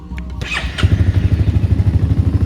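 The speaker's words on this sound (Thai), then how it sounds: "สตาร์ทติดง่ายนะครับ สตาร์ทติดง่าย" A Honda Forza scooter engine cranks with a starter whir, then catches and settles into a steady, fast puttering idle close by.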